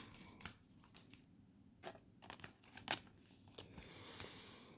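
A trading card slides into a soft, flexible Ultra Pro plastic sleeve, making faint, close crinkly rustles and a few small sharp clicks in a quiet room.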